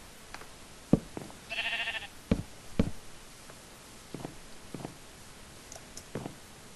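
Sheep bleating in the Tekkit Lite Minecraft video game, a short nasal bleat rising out of quiet game ambience alongside scattered clicks and footstep-like taps.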